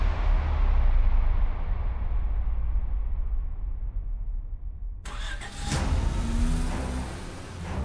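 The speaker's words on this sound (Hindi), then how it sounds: "चलो गाड़ी चलाओ" A car engine cranks and catches, then settles into a low steady running drone; after a sharp cut the car is heard underway with road rumble and engine hum, fairly loud and close, no talk.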